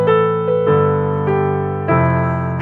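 Piano plays the melody on white keys in C, a few sustained notes struck one after another over low chords. It sounds clear and close, with no voices.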